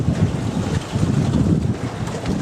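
Gusty wind buffets the microphone in a constant low rumble while rigging a sailboat, with no voices.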